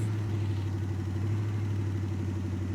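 A 1985 GMC square body truck engine idling steadily after being coaxed back to life, a low, even mid-pitched rumble with a regular pulse, close and continuous with no talking.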